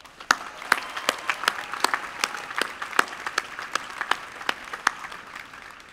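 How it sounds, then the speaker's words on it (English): A graduation audience applauds the staff, heard as scattered, distinct individual claps at an uneven rhythm rather than a dense wash, close and fairly loud. "They too deserve a huge round of applause."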